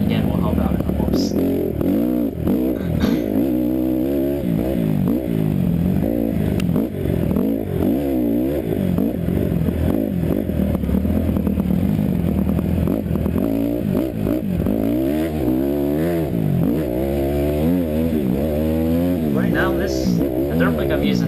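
A dirt bike engine revs and shifts pitch continuously while riding through whoops in the rain. The engine drones steadily at moderate level throughout, under someone talking almost the entire time.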